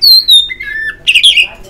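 A golden myna at a bird market gives a loud run of whistles and squawky calls, gliding then breaking into a harsh burst, close by with no talk over it.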